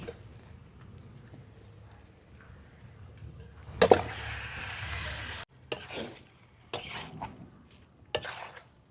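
Meat tipped into hot oil and fried spice masala for chicken kosha, a loud sizzle bursting up and then stirred in, followed by several short scraping stirs in the pan.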